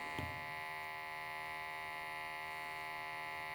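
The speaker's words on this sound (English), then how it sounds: "I want to go ahead and turn on my pump, turn on my regulator" A small pump on a Landtec GEM2000 gas analyzer runs during calibration with a 0.5 liter per minute regulator and calibration canister, giving a faint, steady electric hum with tonal buzz after a brief click at the start.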